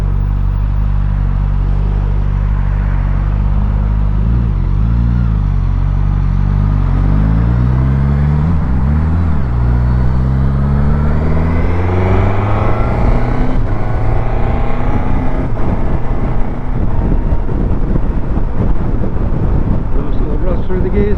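A Suzuki GSX-S1000GT motorcycle on a winter ride accelerates hard through the gears, its loud, close engine note climbing in pitch, dropping at each shift and climbing again, with a rider talking over it.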